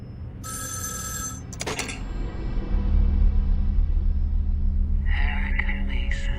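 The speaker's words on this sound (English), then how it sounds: "The phone, of course." A telephone ringing in the video game Erica, with two bright electronic rings, then a third, over a low rumbling ambient drone.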